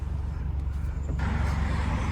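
A Scion tC fitted with a new aftermarket exhaust idles with a steady low engine rumble, then rises into a louder, fuller rev partway through, close and continuous.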